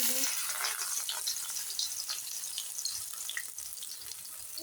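Coriander leaf chops frying in hot oil, a steady close hiss and sizzle with light crackling that holds throughout.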